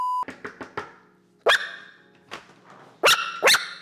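A small dog yaps and barks indoors in a new, empty house, with several quick close yips at the start followed by louder, sharper barks spaced apart, ringing slightly in the bare room.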